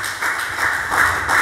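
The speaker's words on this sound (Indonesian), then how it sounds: "Kasih tepuk tangan untuk Tuhan." Church congregation clapping during a sermon, a steady wash of many hands applauding together, fairly close and continuous through the short stretch with no talk over it.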